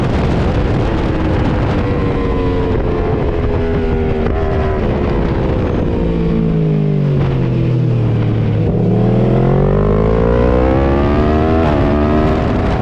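Racing motorcycle howling past on a track in Spain, loud engine note sweeping up and down through gear changes as it passes close, with another engine rising near the end; no talk.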